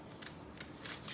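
Scissors snip through paper in a short burst of about three or four crisp cuts, close and fairly quiet, with no voices.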